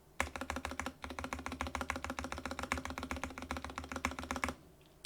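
Fast, steady typing on a Varmilo Miya Pro Koi Edition mechanical keyboard fitted with Cherry MX Red switches, a close run of dense, even key clacks with one brief pause, ending in a lone tap, with no talking.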